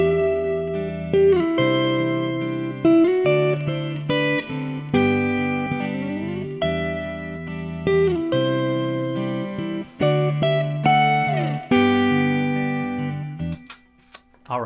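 Electric guitar strums a repeating four-chord progression through the 1, 6, 4 and 5 chords, clear, sustained harmonic chords changing every couple of seconds, played alone at close range with some effects, ending in a brief noisy scrape.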